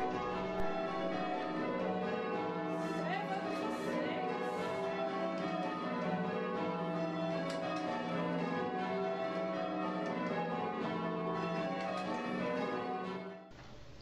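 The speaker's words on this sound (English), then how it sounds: "Stedman's principles of bell ringing" Church bells of St Peter & St Paul in Tonbridge ring changes in Stedman's method, a continuous, evenly paced cascade of overlapping strikes, heard faintly and steadily before stopping near the end.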